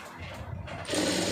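A sewing machine starts running partway through, stitching a quarter-inch seam on blouse piping, with a quick mechanical whir that rises suddenly and holds close and steady.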